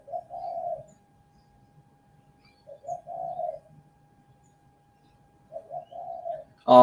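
Pigeons or doves coo close by in three separate low, soft phrases, each about a second long with quiet gaps between them and no talking over them.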